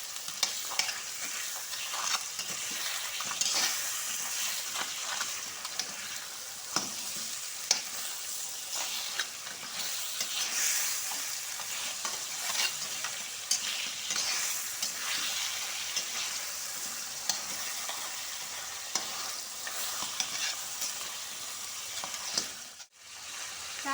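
Ground lobster-soup spice paste and garlic fry and sizzle steadily in a pan, with occasional stirring scrapes, loud and continuous, then a brief dip near the end.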